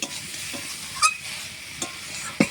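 Prawns cook in a pan as the water dries off, a soft continuous sizzle broken by a few sharp clinks of a spoon scraping the pan, heard close with no talking.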